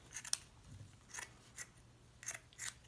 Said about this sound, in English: I'm going to cut this one in half and have two little shorter pieces.